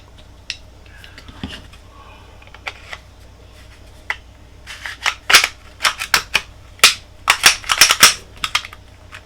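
A Smith & Wesson .22 Magnum pistol with a fixed barrel is put back together by hand. Sharp metallic clicks and snaps come sparsely at first, then in quick, close clusters toward the end.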